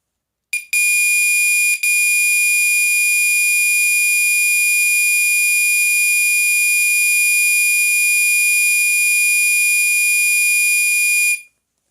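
A Gentex Commander3 fire alarm horn sounds a piercing, steady continuous tone at high volume after a brief start-up blip, then cuts off abruptly.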